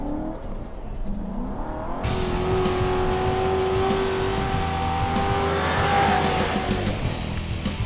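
A Chevy or Ford police car engine fires up and revs hard alone and close, a sustained roaring drone that climbs in pitch, with tire squeal as it digs into dirt at speed.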